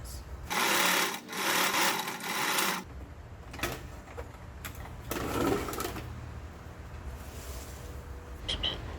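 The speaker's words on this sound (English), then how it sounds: "sew the sides in place" A sewing machine stitches the sides of a fabric face mask, running in loud bursts of rapid mechanical whirring with short pauses between, then quieter handling noise.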